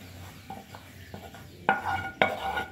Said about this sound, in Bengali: ক্যারামেলটা দিয়ে এটাকে ভালো করে মিক্সড করে রেখে দিচ্ছি